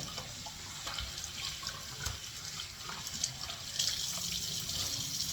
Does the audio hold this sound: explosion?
no